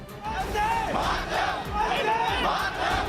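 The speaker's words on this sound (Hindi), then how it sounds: "वहीं शहीद के घर के बाहर खड़ी भीड़ हाथों में तिरंगा लहराते हुए नारे लगाने लगी।" A crowd standing outside a martyred soldier's house waving tricolour flags chants slogans in loud rhythmic unison, voices surging in repeated waves, close and continuous.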